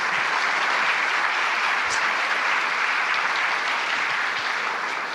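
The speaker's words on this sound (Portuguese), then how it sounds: "Você pode aplaudir o Senhor por essa palavra?" A church congregation claps together in a steady, sustained round of applause that fills the room evenly from start to finish.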